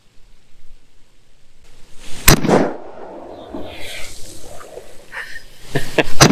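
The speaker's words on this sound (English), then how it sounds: "let's shoot these next two air guns" A Umarex .25 caliber air rifle fires at a target outdoors in a snowstorm: one loud, sharp crack rings out near the start, followed by a few more close, sharp reports toward the end, with quiet in between.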